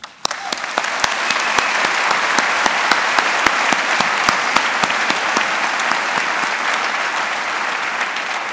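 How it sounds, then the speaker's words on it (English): Loud, steady applause from a large audience at a graduate commencement ceremony, dense clapping filling the hall with a few sharper nearby claps standing out, sustained without letting up. "Let us begin by applauding their myriad achievements"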